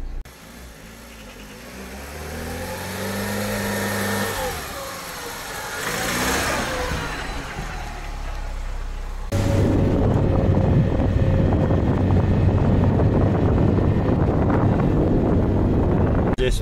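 Off-road vehicle on Matador MP72 Izzarda A/T2 tires crawling through mud in low first gear, engine droning and shifting pitch with sloshing, then a sudden louder, steady rumble partway through.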